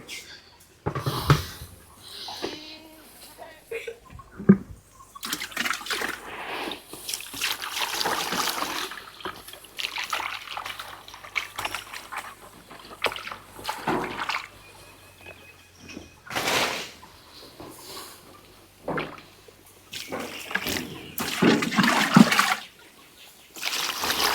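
Water poured into a basin for goats makes irregular splashes and trickles in bursts, fairly close, with intermittent rustling and animal movement around it.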